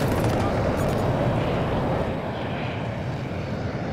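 An F-35 jet in the video game Battlefield 2042 gives a loud, continuous broadband engine roar that eases slightly partway through, with no clear speech.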